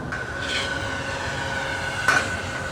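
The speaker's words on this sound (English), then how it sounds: "This is unloading the cars off the train" Rail yard noise from the Indian Pacific motorail wagons as cars are unloaded, a steady mechanical hum with a sustained tonal whine and a sharp metallic clank about two seconds in, at moderate distance.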